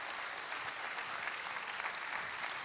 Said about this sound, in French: On l'applaudit, bravo, bravo